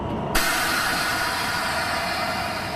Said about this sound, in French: Les 2400 chevaux de la 67 438 enlèvent sans difficulté les 4 voitures de la rame